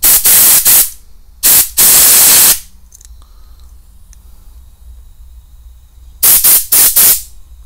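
Compressed air blasts through the jets of a Suzuki GS 500 motorcycle carburetor, loud hissing bursts in two clusters at the start and again near the end, separated by a quiet stretch.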